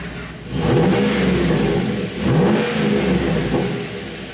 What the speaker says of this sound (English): So that lovely note you just heard is coming to you courtesy of a Borla XR1 muffler